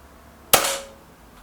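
A single sharp crack from a Hatsan AT44-10 air rifle firing, close by and loud against a quiet background, with a short ringing decay and no talk.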